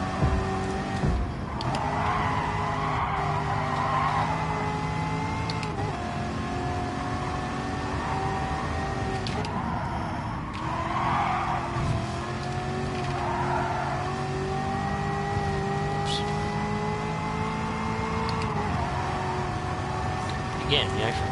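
A race car engine held at full throttle in Gran Turismo, a constant, loud droning whine with gear-change dips in pitch and tyre noise, running for about twenty seconds while someone talks over it.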